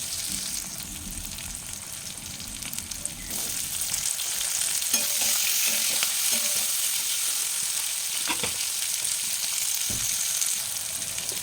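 Potatoes, onions and tomatoes sautéing for a Bengali fish curry, a continuous hissing fry that grows louder partway through, with scattered clinks and scrapes of a spatula stirring the pan.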